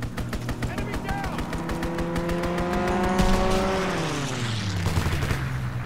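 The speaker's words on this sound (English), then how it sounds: "Go for a strafing run." Gunfire from a strafing run in Call of Duty: WWII, rapid bursts of shots over roaring engine noise that rises and then falls away, with players talking over it.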